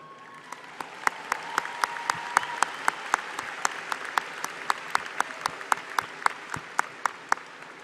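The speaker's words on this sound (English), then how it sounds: "We can now applaud." Applause at a college graduation ceremony, heard as a steady run of sharp, evenly spaced claps standing out over a softer crowd background, as if one clapper sits near the microphone amid the audience.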